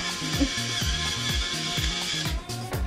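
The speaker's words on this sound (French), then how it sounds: "Et on va mettre un petit peu de poivre. Bon, j'adore ça, c'est électrique, c'est génial." An electric pepper mill grinds pepper over a salmon and leek quiche filling, giving a steady motorized buzz with a repeating pulsed rhythm, close and fairly loud, with no talking.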